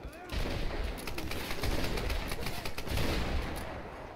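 Shotgun fire in Tomb Raider multiplayer: several sharp, rapid blasts crack out in quick succession over game ambience.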